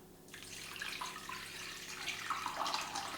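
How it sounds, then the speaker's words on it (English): Water pours steadily into a cooking pot of stuffed courgettes and courgette flowers, a continuous close splashing rush that runs the whole time with no talk over it. "Then we're going to pour water,"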